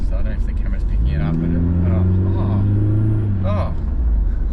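A supercharged project car making odd noises while being driven, a loud steady engine drone with shifting tonal whine under constant cabin rumble, with people talking over it.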